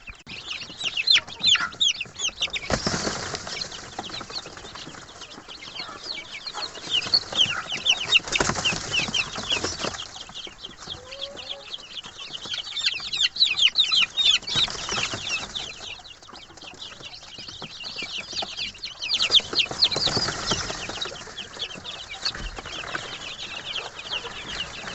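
Day-old Rhode Island Red chicks give dense, continuous high peeping that swells and eases in waves, close by. Occasional soft fluttering can be heard, with no talking.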